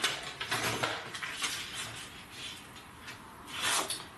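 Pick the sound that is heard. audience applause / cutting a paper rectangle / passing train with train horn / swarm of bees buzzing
cutting a paper rectangle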